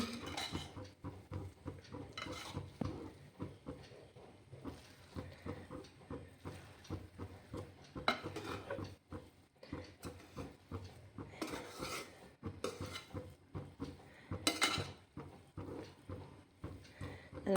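A spoon stirs cooked mutton biryani rice in a metal pot, giving repeated close scrapes and clinks against the pot with a steady working rhythm and no voice over it.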